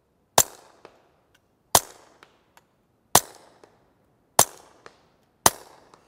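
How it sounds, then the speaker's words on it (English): A suppressed rimfire pistol, a Smith & Wesson Victory fitted with a Gemtech Mist suppressor, fires five sharp, quiet cracks into dirt outdoors at a steady pace, each followed by a faint echo and small tick. "I'm just going to shoot the dirt."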